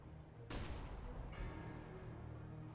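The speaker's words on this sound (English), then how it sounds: "Deploying flashbang." A flashbang grenade goes off in CS:GO with a sharp broadband burst, followed by a steady ringing drone that lingers for a couple of seconds, with no voices over it.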